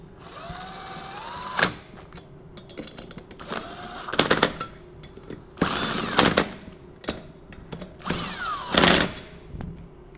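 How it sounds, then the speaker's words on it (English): An impact driver running bolts on a Kohler Courage XT-7 small engine, giving short loud rattling bursts with rising whine, separated by quieter pauses and clicks, close up. "I'm going to use the impact driver."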